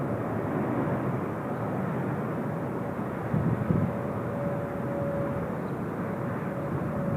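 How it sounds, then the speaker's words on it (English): An Air Japan airliner rolling down the runway on takeoff at Incheon Airport, a steady distant jet engine roar with a constant low rumble, heard from afar with no talk. "Air Japan off to Narita. Always seem to have quite a long takeoff run"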